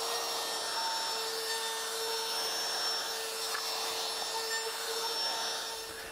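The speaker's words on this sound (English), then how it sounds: "So I've got an 1/8 inch router bit in here." A wood router fitted with a 1/8 inch round-over bit cuts the edge of a wooden dice vault, giving a steady, close, high-pitched whine that holds evenly throughout.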